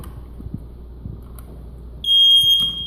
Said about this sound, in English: let's just start with smoke alarm. It's working.